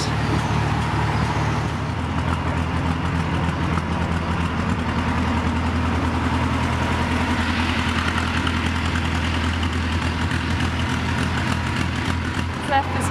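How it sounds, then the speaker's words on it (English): A narrowboat engine running rough: a steady, low drone throughout, with a constant deep hum and faint irregular rumbling under it, close by and continuous. "the engine just doesn't sound right at all today"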